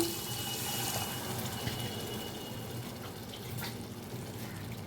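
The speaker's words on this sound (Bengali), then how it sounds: "এখন আমি পরিমাণ মতো জল দিয়ে দিব" Water is poured steadily into a sesame katla fish curry, a soft continuous splashing and trickling that lasts the whole time.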